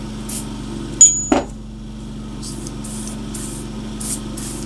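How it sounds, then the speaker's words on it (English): Aerosol lubricant sprayed from a can onto a pistol being cleaned, short hissing bursts repeating at intervals over a steady low hum, with a couple of sharp handling clicks early on. "just spray it up."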